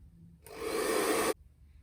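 A hair dryer blasts a wet watercolour painting dry in a single steady, close burst that starts abruptly and cuts off just under a second later.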